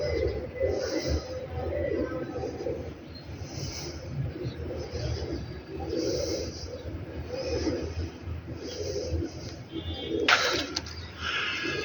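Rooftop pigeons coo in Kharian with soft, repeated low calls that pulse at a steady rhythm. The coos sit at moderate distance over a quiet background, with a brief sharper noise near the end.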